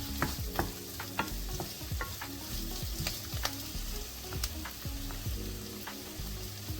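Chopped onion frying in melted butter in a pan, a steady close sizzle with repeated scraping clicks of a spoon stirring at irregular intervals.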